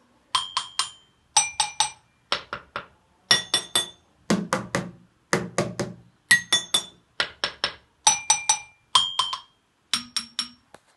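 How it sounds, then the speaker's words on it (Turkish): A metal spoon strikes an object in quick clusters of bright, ringing clinks, close and loud, repeating steadily with short pauses and no talk. "Şimdi metal kaşık ile göstereceğim."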